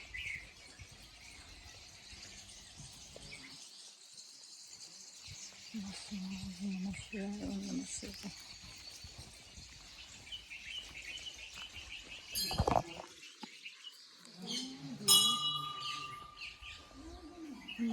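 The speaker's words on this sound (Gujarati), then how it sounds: "ઓલા ઝાડના અંદર હશે ચકલીઓ" Sparrows chirp and twitter in bursts from inside a tree at a quiet temple, over a steady insect hum, with a few louder close calls and some brief voices.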